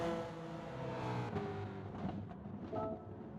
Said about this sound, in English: I immediately hear an NSX.